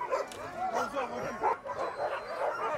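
Several sled dogs bark and yip together at a distance, an excited overlapping chorus with no pauses.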